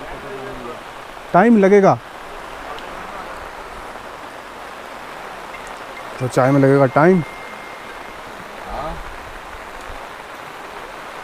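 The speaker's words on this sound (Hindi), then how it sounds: "फ़िलहाल बरसती हुई बूंदें।" Steady rain falls outdoors near Kasar Devi in Uttarakhand, a soft, continuous patter filling the background, while people speak briefly twice over it.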